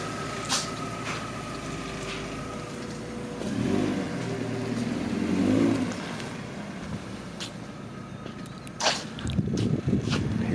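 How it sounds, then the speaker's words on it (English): A car on its first drive after new suspension, tires and brakes are fitted, its engine revving and swelling as it accelerates, then easing off, heard at a moderate distance with some road and wind noise. "This is the first drive on the brand new suspension, brand new tires, brand new brakes."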